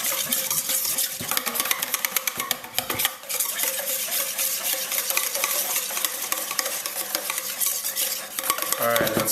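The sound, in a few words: whisking raspberry preserves into BBQ sauce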